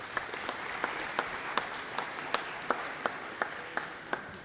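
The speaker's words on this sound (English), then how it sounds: "Let's give him a round of applause." Steady applause from a school awards evening audience, a dense patter of many hands clapping with a few sharper claps standing out, sustained throughout.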